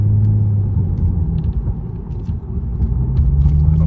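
Lexus IS300 on coilovers driving on the road: a steady low engine and road rumble heard from inside the car, fairly loud and continuous, with a brief dip midway.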